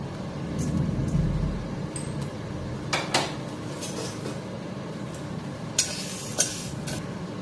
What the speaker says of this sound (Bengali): এক বাটি মুগ ডাল হালকা করে ভেজে নেব